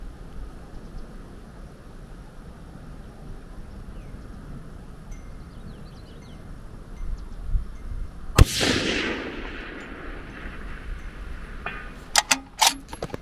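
A single rifle shot fired at a target 830 yards away, outdoors: one sharp, loud crack with a trailing rolling echo, set against steady wind and background hiss, followed by a few faint clicks.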